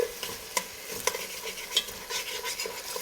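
A utensil scraping the bottom of a beef bourguignon pan to lift the browned beef residue, several sharp scraping strokes over a soft, continuous sizzle, close and fairly loud.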